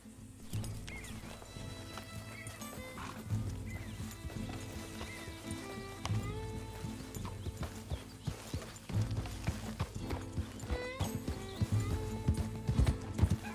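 Steady clip-clop of galloping horse hooves in Red Dead Redemption 2, a fast continuous rhythm over a dense game soundscape, with an occasional whinny.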